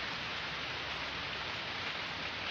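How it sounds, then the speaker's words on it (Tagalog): Steady rain falls as a dense, even hiss with no letup, fairly quiet and with no voices over it. "So kay gaulan."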